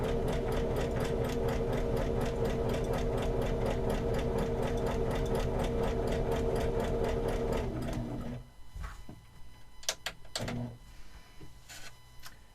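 A sewing machine stitches fabric for an Easter lily project, a fast, even mechanical chatter running continuously for about eight seconds before stopping, followed by a few sharp clicks and handling knocks.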